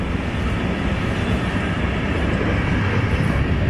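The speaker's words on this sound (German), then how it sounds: "Ich hier einmal zum Filmen und dann kommt natürlich gleich ein Zug" A train passes close by outside, a loud, steady broadband rumble and rush of wheels on rail filling the whole span without letup, no voices over it.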